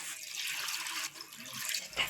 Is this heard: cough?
no